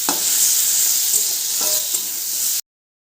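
Potatoes and tomatoes fry loudly in a pan, a bright continuous sizzle with a few soft scraping stirs, cutting off abruptly near the end.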